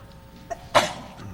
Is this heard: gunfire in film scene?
no